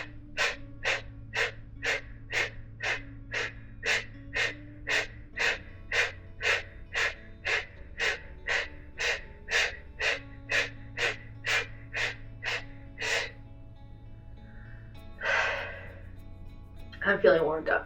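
Forceful, rhythmic exhalations in a hatha yoga breathing exercise, like repeatedly blowing out a candle. Around twenty sharp breaths come in an even, quick pulse, close and loud, then stop, followed by a longer breath and a little movement.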